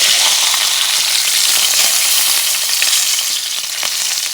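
A ribeye steak frying in a pan on the stove gives a loud, steady, dense sizzle that crackles on without pause, with no voices.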